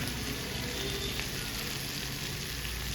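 Prawns fry with chili powder in a hot pan on high heat, giving a steady, close, dense sizzle with no gaps, and no voices.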